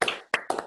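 A few quick hand claps for a seminar speaker, three short sharp claps close to the microphone, alone and brief.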